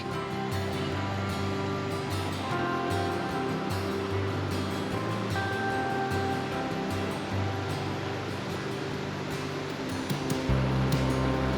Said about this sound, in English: And this is gonna be the South St. Vrain Creek.